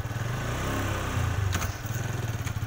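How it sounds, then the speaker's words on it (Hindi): A motorcycle being ridden gives a loud, close, pulsing engine drone with a rhythmic throbbing beat and brief clattery bursts partway through, no speech. "ये बाइक चला रहे हैं"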